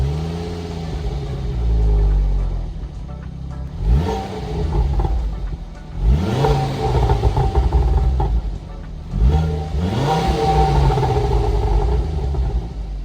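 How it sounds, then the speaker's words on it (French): Exhaust of a Ford Focus ST mk2 as the engine is revved in repeated blips: three or four rising, rumbling pulls over a steady deep idle, loud and close, with no talking. "Je te montre le son à l'échappement et après on est parti."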